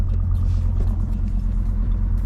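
A Jeep WJ 2.7 CRD diesel engine idles in reverse with a constant, deep, loud rumble that holds steady throughout, close by and with no voices.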